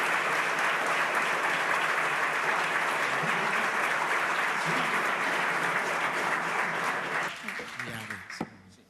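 Audience applause for a game design professor at a training event: dense, sustained clapping from a sizeable crowd, steady and loud, fading over the last two seconds as a voice begins to speak.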